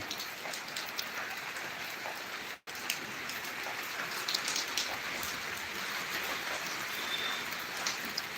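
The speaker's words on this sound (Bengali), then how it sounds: "আমাদের এখানে গতকাল থেকে বৃষ্টি হইতেছে" Steady rain falls continuously in a dense, even hiss, with a brief near-silent dropout partway through and no voices.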